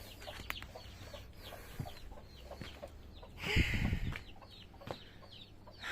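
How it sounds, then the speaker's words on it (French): Chickens and chicks cluck and cheep softly nearby on a farm, with a short burst of louder clucking and scratching partway through. "maintenant les poussins et les poules"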